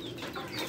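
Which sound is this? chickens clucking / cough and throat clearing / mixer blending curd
chickens clucking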